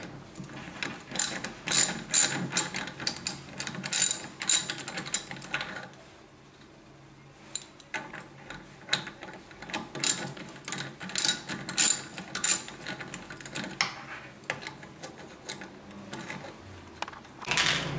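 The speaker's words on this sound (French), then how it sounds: "munissez-vous d'une clé à pipe pour pouvoir enlever l'écrou qui maintient le pédalier droit" A socket wrench ratchets in quick bursts of clicking as it loosens the nut holding the right pedal crank of an electric bike, with a pause partway through before the clicking resumes, up close.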